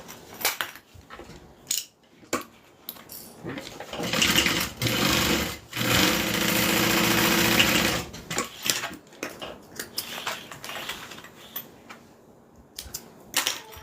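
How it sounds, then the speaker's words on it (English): A sewing machine stitches a fabric train case in several bursts of rapid mechanical clatter, the longest running a few seconds in the middle, with quiet pauses and light handling noises between them. "so I'm going to sew this down first"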